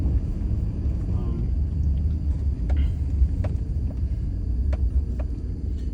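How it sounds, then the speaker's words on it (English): A car rolls through city streets at night in Jackson, Mississippi, heard from inside as a steady low engine and road rumble with some wind noise and a few faint clicks. "I'm just driving totally at random here"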